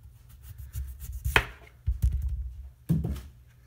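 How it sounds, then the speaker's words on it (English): A knife chops through sweet potatoes on a cutting board, landing a few distinct, solid thuds spaced irregularly over faint background noise. "you can just cut off any nubs that are on your sweet potatoes"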